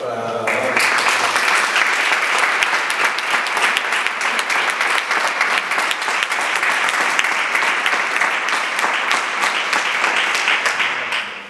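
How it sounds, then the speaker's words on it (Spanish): Sustained audience applause filling a talk session, dense steady clapping from many hands at close range, starting abruptly and running on without a break to the end. "voy a pedir un aplauso"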